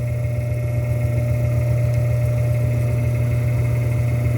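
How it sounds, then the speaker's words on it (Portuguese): A three-phase electric motor wired to a single-phase supply with a permanent capacitor runs steadily, a loud constant hum with a strong low drone and faint mechanical whir, unchanging and with no talk. "O motor tá funcionando"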